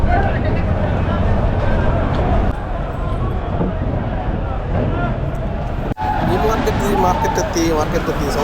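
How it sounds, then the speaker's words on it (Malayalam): Busy fish market in Al Qatif, Saudi Arabia, with a dense, continuous wash of crowd chatter and nearby vehicle noise, voices talking throughout. "മാർക്കറ്റ് എത്തി സൗണ്ടില്ലേ? ഇതാണ് മാർക്കറ്റ്."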